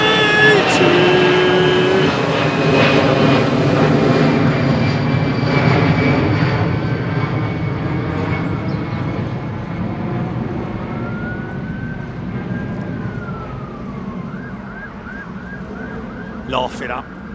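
A loud, steady airliner jet engine roar fills the air close by at Heathrow Airport during departures, with a rising whine and people talking briefly over it.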